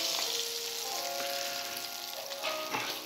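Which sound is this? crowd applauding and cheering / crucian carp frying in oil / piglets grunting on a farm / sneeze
crucian carp frying in oil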